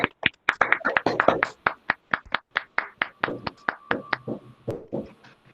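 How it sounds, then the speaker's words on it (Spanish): A small audience claps at the close of a talk on food and cancer, with distinct, fairly sparse hand claps in an uneven rhythm that thin out toward the end, close and clear. "Un aplauso a ustedes que están."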